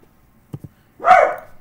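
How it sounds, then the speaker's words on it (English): A single sharp dog bark, loud and close, heard after two faint low thumps, with no talk. "Just out of the blue, barking, bark, bark, bark, bark."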